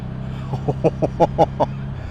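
A 2024 MBP C1002V muscle cruiser motorcycle rides in fourth gear, its engine holding a steady low drone with a series of short, sharper pulses rising over it midway.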